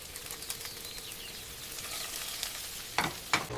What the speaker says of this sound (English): I cook eggs for breakfast.